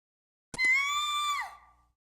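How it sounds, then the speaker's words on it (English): A piercing scream from the horror video game Hayarigami 2, one sustained high shriek that trails off and falls in pitch, preceded by two short clicks and otherwise isolated against silence. "I hear a piercing scream."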